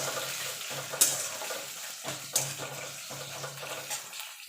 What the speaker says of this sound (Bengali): এবার পেঁয়াজটাকে ভাজা ভাজা করে নেব।